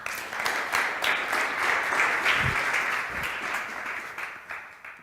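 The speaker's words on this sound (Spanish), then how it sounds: "Este enorme aplauso para todos vosotros." An audience at a lecture applauds loudly and at length, a thick continuous roar of clapping that swells and then gradually fades over about five seconds.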